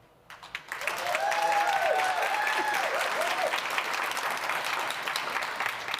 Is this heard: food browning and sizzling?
no